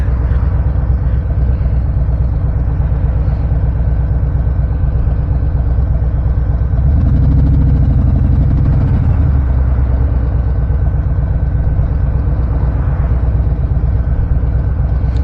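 A new motorcycle engine, still in break-in, idles steadily close by with a low continuous rumble and a brief rise in revs partway through, no voices.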